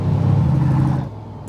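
A 1000hp turbocharged Chevrolet Trailblazer SS accelerates with a loud, steady low engine roar that holds for about a second, then eases off and fades quieter near the end.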